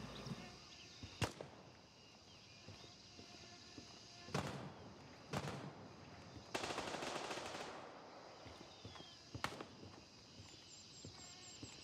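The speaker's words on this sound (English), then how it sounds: "I'm hearing shots over in this back corner." In a PvP video game, gunshots go off in scattered single cracks and one short burst of rapid fire, some sharp and near, others duller, against a quiet background.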